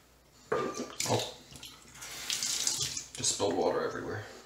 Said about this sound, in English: just spilled water everywhere